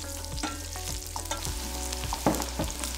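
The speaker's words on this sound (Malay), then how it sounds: "Tumis rempah biji sawi dan kayu manis sikit." Mustard seeds, a little cinnamon, curry leaves and sliced shallots fry in a quarter cup of oil in a wok, making a steady close sizzle with a few soft stirring scrapes and no voices.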